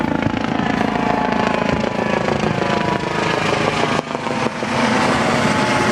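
A helicopter flies overhead near Catalina Island while a boat heads out on a calm Pacific morning, a steady throbbing rotor drone mixed with engine noise, with a brief dip near the end.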